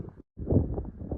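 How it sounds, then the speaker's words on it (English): Wind gusting outdoors on a building site, a steady low buffeting rumble against the microphone that drops out briefly then returns strong and continuous. "Sorry about the background noise, it's getting windy out."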